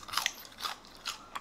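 Crunchy fried meat coated in a very thin starch batter being bitten and chewed close up, four crisp crunching bursts spaced evenly apart with no talking.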